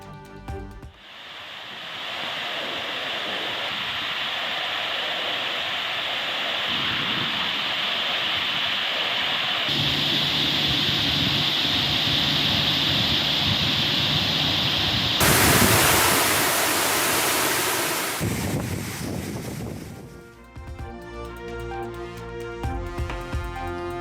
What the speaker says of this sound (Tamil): அணை நிரம்பி தண்ணீர் வெளியேறும் ரம்மிய காட்சி.